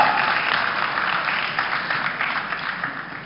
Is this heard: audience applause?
yes